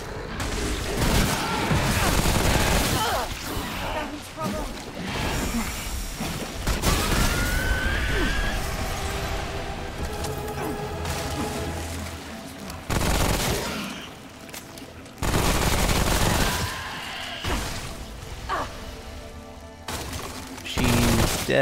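Gunfire in the video game Remnant: From the Ashes: dense, sustained volleys of shots and bursts, loud and continuous across the whole stretch, with crashes and booms mixed in and occasional brief gaps.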